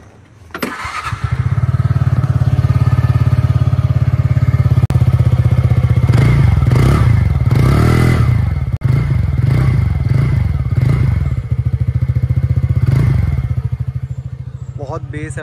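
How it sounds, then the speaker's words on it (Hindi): A TVS Ntorq 125 scooter cranks and fires up, then settles into a loud, close idle with a deep, bassy exhaust note, blipped a few times in rising and falling revs, with a voice talking over it. "exhaust note no doubt Ntorq का ज़्यादा बेटर है, तो एक बार सुनाते हैं Ntorq का"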